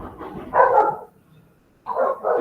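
A female dog indoors barks twice, loud and close, with a pause between the two bursts and a faint low grumble in the gap, no speech over it.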